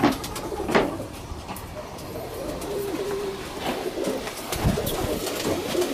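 Roller pigeons coo in a breeding loft, soft low calls repeating close by, with occasional wing flutters and a clatter or two.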